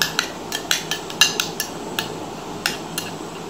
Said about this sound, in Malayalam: ഇതൊന്ന് മിക്സ് ചെയ്യാം നല്ല പോലെ.